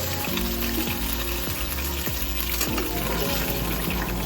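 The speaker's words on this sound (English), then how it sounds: "I'm going in with the blended peppers and onion puree" Blended pepper and onion puree sizzles in hot oil in a preheated pot, a constant frying hiss with running water and soft clunks of utensils against the pot in the background.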